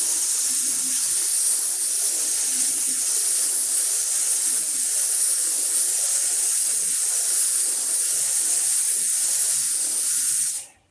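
Spray gun laying down a light coat of paint, a loud, steady, close hiss that runs unbroken for about ten seconds and then cuts off abruptly.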